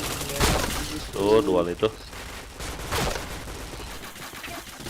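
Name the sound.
gunfire in the video game Point Blank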